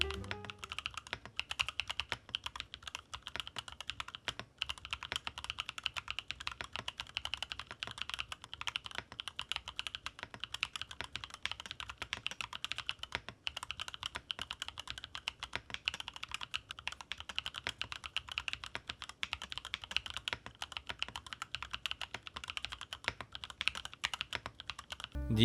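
Steady, rapid typing on a Monstargear Ninja N1 Pro mechanical keyboard with a plastic housing and matcha switches. The keystrokes are crisp and close, run continuously without a pause, and are heard alone with no talking.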